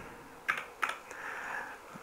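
A few separate keystrokes on a computer keyboard while a name is typed in, with sharp clicks near the start and a softer tap later, close and fairly quiet with no talking.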